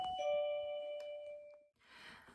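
A home doorbell goes off by itself in winter, a single clear two-tone chime ringing out loudly and decaying over about a second, followed by faint rustling.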